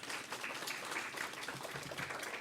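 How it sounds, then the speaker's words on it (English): Audience applause for a moderator and panel speakers at a lecture on the blue economy, a steady, fairly quiet patter of many hands clapping throughout with no talk over it. "Let us give our moderator and our speakers another round of applause."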